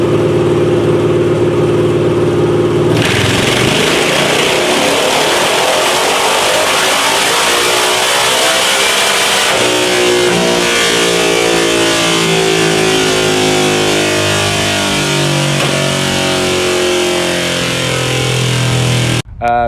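An Indian Scout Bobber motorcycle runs on a dyno, its engine loud and close, rising and falling through revs with sweeping harmonic tones after a sudden start, then cutting off abruptly at the end.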